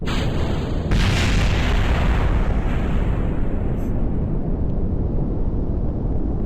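A video game rocket lifting off its launch pad with empty boosters attached: a sudden loud rumbling roar that kicks in at once and holds as a broad, thick engine blast, slowly thinning at the top as it climbs away.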